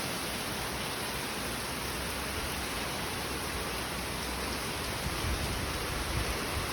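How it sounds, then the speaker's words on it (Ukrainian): Heavy rain pours steadily outside, a dense, even hiss of water with no pauses, loud and continuous throughout. "Гляньте, тут дощик припустився. Величезний."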